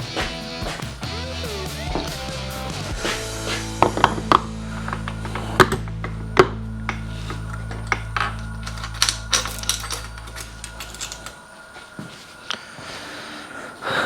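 Metal engine parts on a Yamaha YFZ450R being handled as the clutch basket goes in during a rebuild, with sharp clinks and taps of metal scattered over a steady low hum, close and fairly loud, no talking.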